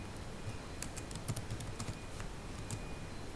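Quiet, irregular clatter of keystrokes on a computer keyboard as QBasic code is entered, a steady run of soft clicks with a few brief bursts, close and alone with no talking.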